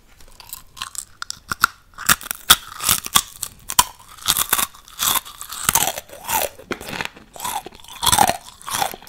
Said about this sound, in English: Takis, very delicious and crunchy.